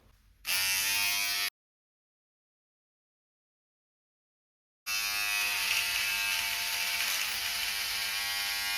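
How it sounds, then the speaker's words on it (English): An electric hair clipper set to a 4mm length trims a beard, buzzing steadily and close-up, first in a short burst, then after a gap in one long continuous run. "which is a 4mm length on my hair clipper, and I'm going to be trimming to just the corners of my lips"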